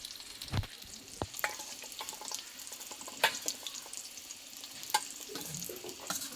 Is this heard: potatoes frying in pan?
yes